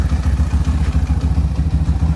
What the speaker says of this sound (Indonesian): mesin halus sekali Sam ya